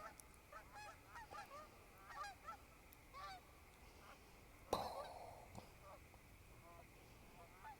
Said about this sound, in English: Those are real birds, too.